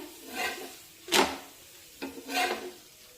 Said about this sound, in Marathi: मध्यम आचेवर दोन्ही बाजूने छानपैकी भाजून घेऊया